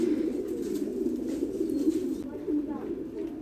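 Pigeons cooing at a Vietnamese pigeon farm, a steady low murmur of coos from many birds filling the space, with faint chirps above and a brief speaking voice in the background.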